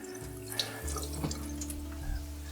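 A kitchen tap runs steadily into a sink while something is rinsed under it, a close, continuous hiss of water with a low hum and a few brief splashes.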